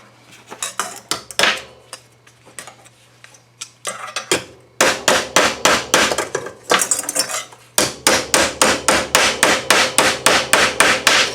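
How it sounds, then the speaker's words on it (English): A hammer strikes sheet metal over and over while flattening a panel for a 1934 Ford hotrod, loud sharp metallic blows in fast, regular bursts with short pauses between them. "Just trying to flatten this metal out a little bit to stretch it out."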